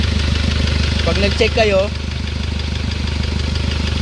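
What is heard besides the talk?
Hyundai Starex 2007 CRDI diesel engine running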